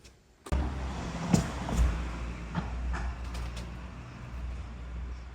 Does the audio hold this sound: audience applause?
no